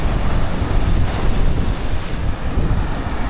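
Sea waves and steady wind along the shore at Kep, a small coastal town in Cambodia, a continuous broadband wash of surf with gusty wind rumble on the microphone, loud and close with no voices.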